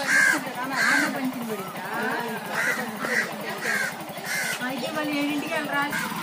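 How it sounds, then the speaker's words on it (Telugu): A crow caws loudly and repeatedly in short harsh bursts close by, while people talk alongside the calls. "ఇగో కాకి చూడు నీకోసం వెయిట్ చేస్తుంది"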